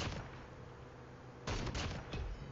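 SVD sniper rifle fire in Call of Duty Mobile comes as dense, loud, crackling gunshot bursts in quick succession, with a sharper volley about halfway through.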